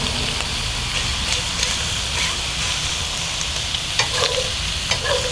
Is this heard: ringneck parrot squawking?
no